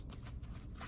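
A deck of tarot-style cards is shuffled and cards are drawn, giving a brief, soft, close-up riffle and rustle of card stock.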